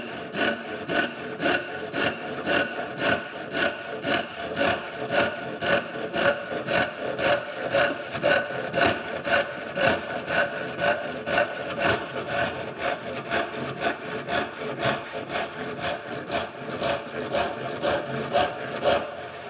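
A hand saw cuts through wood for a joiner's mallet, its even back-and-forth strokes rasping steadily and close for the whole stretch.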